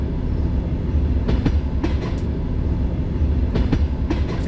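A train in a Russian train-driving video game rumbles along steadily, with periodic clickety-clack of wheels over rail joints, close and continuous with no voices.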